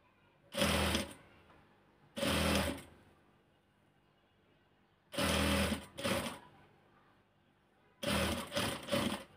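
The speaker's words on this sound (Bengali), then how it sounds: "এখন এই যে গলার এদিক দিয়ে আমি ভিতরে দিয়ে সেলাই করব" A sewing machine stitches the neckline of a georgette kameez in four short whirring bursts, loud and close, separated by quiet pauses, the last burst stuttering in quick stops.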